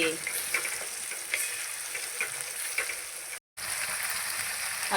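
Ground masala paste sautés in oil in a pan, a soft steady sizzle with light stirring scrapes and a brief dropout near the end, no talk.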